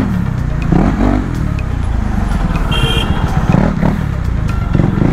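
A KTM Duke 390 motorcycle rides through heavy city traffic in a street race, its loud nearby engine surging in short bursts over steady road and traffic noise.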